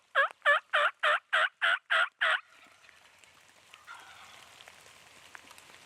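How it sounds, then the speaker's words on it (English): A wild spring turkey tom gobbles eight times in rapid succession, loud and close, then the calls stop and only faint rain patter and soft outdoor ambience remain. "the tom gobbled at me 3 times in a row"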